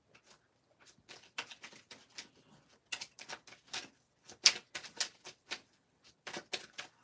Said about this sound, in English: I don't know why I'm still shuffling this deck